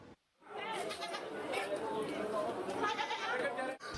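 Goats bleating amid a crowd at an Indonesian village livestock market, where animals sold for sacrifice are checked by veterinary staff; steady, busy bleats and chatter fill the whole stretch after a brief quiet start.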